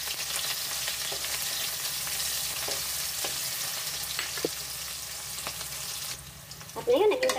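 White onion frying in hot cooking oil for Ilocano-style igado, giving a steady, close, hissing sizzle with occasional utensil scrapes. A louder clatter and voice come in near the end.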